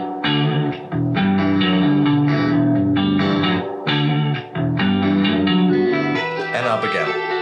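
Vocal pitched down an octave through a pitch-shift effect in a music production session, producing thick, distorted, bass-like sustained phrases in rhythmic bursts, loud and alone.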